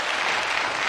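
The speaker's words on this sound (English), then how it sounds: "Your audience, which will clap apparently anything" A brief, loud burst of audience applause, dense and even, filling a single second without any voices over it.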